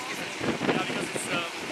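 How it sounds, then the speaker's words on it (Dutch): A strong, hot wind sweeps across the Australian outback in roughly 44-degree heat, a continuous, rough rushing and buffeting against the microphone with gusty swells and a faint voice mixed in. "En dan permanent een soort van harde wind."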